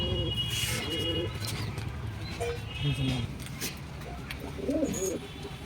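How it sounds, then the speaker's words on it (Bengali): Low coos from a pair of Giribaz and Madras pigeons come in short bursts near the start and again near the end, mixed with people talking and some outdoor bustle. "পায়রা দুটোকে ছেড়ে দেখাচ্ছি চলো"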